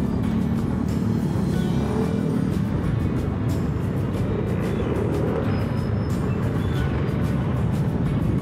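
Steady road traffic rumbles on the C5 extension, a busy road under construction, with a constant low engine drone and passing vehicles close by, heard from a motorbike.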